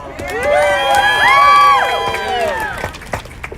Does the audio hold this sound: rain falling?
no